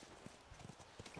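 Faint, low clip-clop of horse hooves in The Last of Us video game, a few soft irregular thuds over a quiet background.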